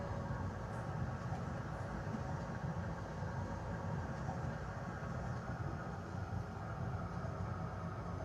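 An O-Train light rail train running out beneath highway ramps, a steady low rumble and rolling hum heard from inside, constant and fairly quiet throughout.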